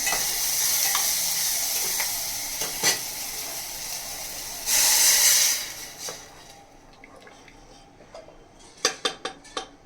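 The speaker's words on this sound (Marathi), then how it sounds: "छान हलवून घेत आहोत" Veg biryani being stirred with salt in a pan at home, soft scraping and sizzling with occasional metal clinks, a brief louder hiss midway, then sharp spoon taps against the pan near the end.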